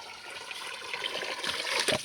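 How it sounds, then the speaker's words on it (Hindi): Water flows from a natural mountain spring in rural Uttarakhand, giving a soft continuous trickling hiss that grows slightly louder and splashier near the end, with no talking. "धारा में कुछ इतना पानी आ रहा है आजकल"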